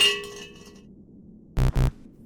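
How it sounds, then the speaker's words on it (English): A shrine bell in the Japanese haunted-house video game Onryo rings with a clear tone that fades over the first second, followed after a pause by two loud, sharp bursts close together. "Ring bell."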